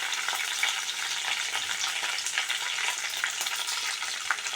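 Dried red chillies and curry leaves sizzle steadily in hot oil for a tomato rasam tempering, a close and continuous frying hiss with no talking.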